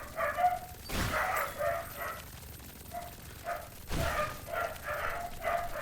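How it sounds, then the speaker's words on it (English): Several dogs bark in two short bursts of yips and bow-wows, moderately distant, with quiet pauses in between and no talking. "The dogs are having a good time."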